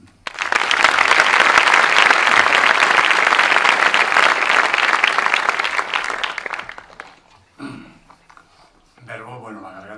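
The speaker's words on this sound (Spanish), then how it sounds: "Un aplauso." A large audience at a Falange Española y las JONS anniversary gathering breaks into sustained, loud applause that fades out after several seconds, followed by someone speaking.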